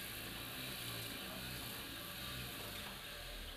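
A wooden walking wheel spins cotton fiber into yarn, giving a steady, close whirring hum with a faint ratcheting, clicking texture that runs evenly throughout, with no voices.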